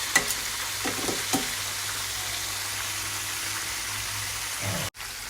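Steady crackling sizzle of chicken deep-frying in a pan, with a few soft clinks of a utensil stirring early on and a brief cut near the end.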